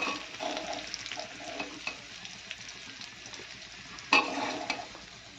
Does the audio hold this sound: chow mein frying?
yes